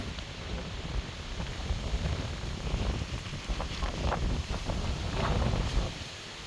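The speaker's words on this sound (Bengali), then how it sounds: "তীব্র বাতাস আর সমুদ্রের গর্জন বেশ ভালো লাগছে" Steady wind roars across the microphone at a beach with a broad, washing rumble of sea surf beneath it, continuous and fairly loud for several seconds.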